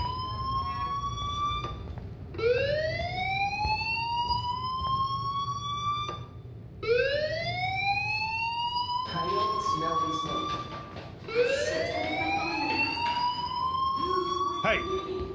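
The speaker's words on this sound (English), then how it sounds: "do you hear that fire alarm? That means you should be outside." Fire alarm from the Life Is Strange video game wails in three long rising siren sweeps, loud and repeating, over a low background hum.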